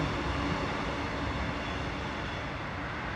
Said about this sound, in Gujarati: બાજુમાંથી મેટ્રો જાય છે.